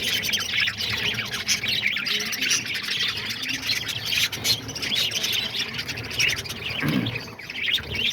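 English budgies chirp in an aviary that also holds lovebirds, diamond doves and cockatiels, with a dense, steady wash of overlapping tweets and chatter throughout, birds close and fairly loud, no talking.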